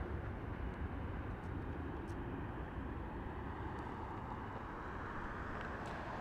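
Southwest Airlines Boeing 737 at Las Vegas Harry Reid International Airport, a steady distant jet roar with broad low rumble holding level throughout, no voices over it.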